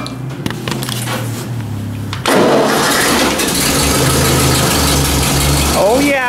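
Ford 2N tractor engine cranking, then catching and settling into a loud, steady idle close by, with a voice briefly heard near the end.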